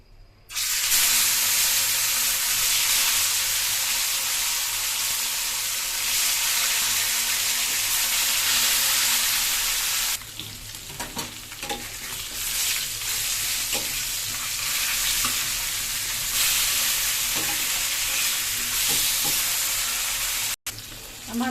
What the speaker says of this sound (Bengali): এদিকে আর এক চুলায় আমি মাছটা ভাজতে দিব।